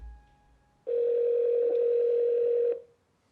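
A telephone dial tone during a phone call, a single steady electronic tone that starts abruptly, holds for about two seconds and cuts off, clear and close with no speech.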